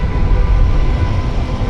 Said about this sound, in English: We have another tram coming over here.